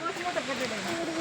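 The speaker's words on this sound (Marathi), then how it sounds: "बघ तिथे बारीक धबधबा आहे." A small, thin waterfall at Mahabaleshwar, heard as a steady broadband rush of falling water, continuous and fairly loud throughout with no talking.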